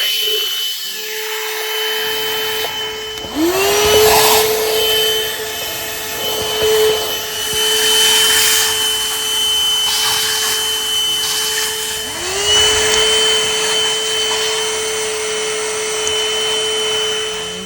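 A vacuum cleaner fitted with a nozzle attachment runs steadily and loudly throughout, its motor whine holding a constant pitch with a few surges where the suction changes; no talking.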